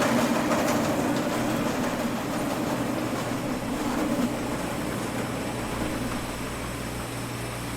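Steady mechanical whirr and low hum of a GSX jetway in Microsoft Flight Simulator extending to connect to an aircraft, continuous and even throughout with no talking.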